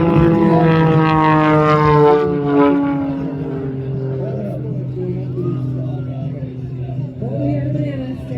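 A propeller aerobatic airplane performing at the MCAS Miramar Airshow, its strong harmonic engine drone loud and steady, shifting in pitch as it maneuvers, with crowd babble faintly underneath.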